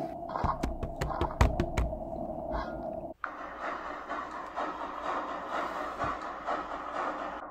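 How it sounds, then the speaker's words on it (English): A train rolls along in a Roblox game, a steady rumbling run that begins after a burst of sharp clicks and taps, then continues evenly without talk. "But the train isn't stopping"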